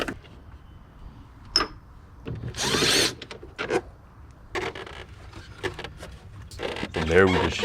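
A power tool whirs in short bursts while removing bolts from the engine bay of a 2011 Lincoln MKX during starter replacement, the spins close and loud with metallic clatter between them and speech heard nearby.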